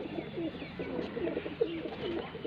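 A pigeon gives low, rolling coos in short repeated phrases, close and fairly quiet over faint background rustle.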